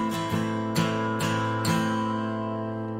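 An acoustic guitar plays a strum pattern in 6/8, with four bright chord strums about half a second apart. The last chord rings out and fades, close and clear with nothing else behind it.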